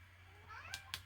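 A cat gives a short, soft rising meow close by indoors, followed by two quick clicks against a low steady hum.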